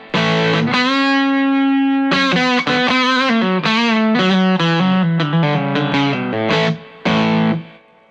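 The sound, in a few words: electric guitar through Wampler Paisley channel 2 overdrive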